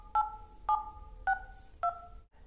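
Telephone keypad tones enter digits on an automated Vodafone phone line during Aadhaar mobile re-verification, five short dual-tone beeps spaced about half a second apart, clear and close with no talk.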